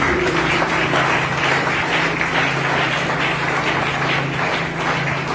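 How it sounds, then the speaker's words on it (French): Sustained applause from a church congregation during a revival worship service, a dense steady wash of clapping held at an even level with a low hum underneath. "c'est un beau applaudissement pour nous"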